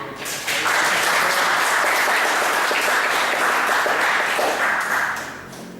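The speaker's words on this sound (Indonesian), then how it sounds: "Kita sambut saja dua pembicara kita ini dengan tepuk tangan yang sangat meriah." An audience giving enthusiastic applause to welcome two speakers at a writing training event, a dense, loud, steady wash of clapping lasting about five seconds before tapering off.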